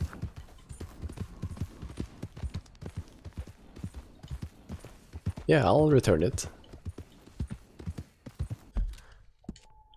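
Horse hooves clip-clop in Red Dead Redemption 2 as a steady, rhythmic string of soft close thuds running through the whole stretch, with a person talking over them and a louder burst of sound midway.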